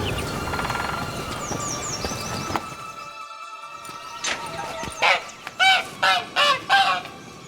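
A caged hen in The Witcher 3: Blood and Wine gives a quick series of five or six loud, honking clucks near the end, after a stretch of background ambience.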